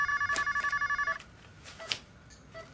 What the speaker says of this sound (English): Oh, I have a phone call.